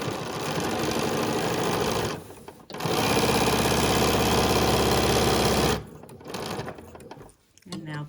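A sewing machine stitches the seam of a reversible bag in long steady whirring runs, close and loud, broken by a brief pause for a pivot and a quieter stretch near the end.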